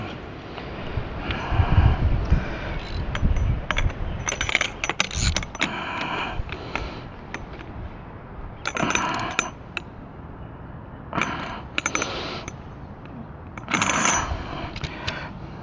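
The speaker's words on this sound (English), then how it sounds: "take the socket and spin in there" Socket wrench spinning a nut tight on a Manfrotto tripod, a close metallic rattling and clicking in uneven bursts separated by short pauses, fairly loud and without talk.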